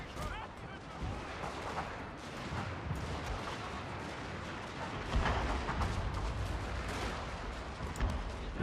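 Continuous crackling volleys of musket-style gunfire from troops in the Fall of the Samurai strategy game, dense and overlapping with sharper bursts, heard at a moderate distance over a busy battlefield backdrop.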